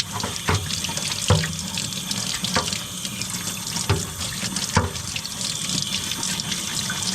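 Tap water runs steadily into a sink as a dehumidifier filter is rinsed beneath it, with a continuous hiss broken by splashes and clunks at irregular moments.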